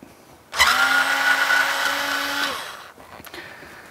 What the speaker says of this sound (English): You can use an electric screwdriver on a computer as long as you're careful